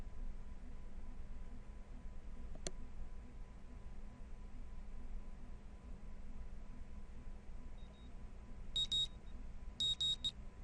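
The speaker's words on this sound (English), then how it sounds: "Tomorrow when my alarm goes off" An alarm clock beeps in a visual novel game: two short bursts of rapid electronic beeping near the end, over steady background hiss and hum with no talking.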